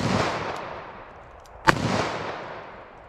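One sharp, loud report from a .410 revolver loaded with bird shot during a 10-yard outdoor ballistic test, a single crack midway with a long fading echo trailing off around it.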